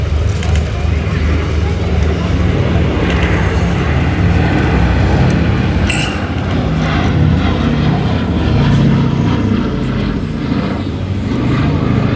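The B-17 Flying Fortress Sally B at the Old Buckenham Airshow, a loud continuous piston-engine drone throughout, with someone speaking over it.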